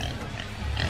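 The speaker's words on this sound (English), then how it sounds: "I walked to a place and a pig came by." A pig in a Roblox horror game grunts in low, rough bursts over a steady background hum, close and fairly loud throughout the short moment.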